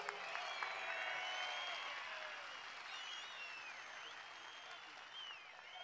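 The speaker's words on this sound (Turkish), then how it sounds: "Yürekten bir alkış" A rally crowd in Amasya applauds at an outdoor political gathering, a broad distant wash of clapping that stays steady and slowly fades, with whistles rising above it.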